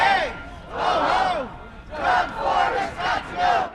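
A crowd of protesters against controversial laws shouts and chants in rising, rhythmic waves of many voices, loud and sustained with brief dips between surges.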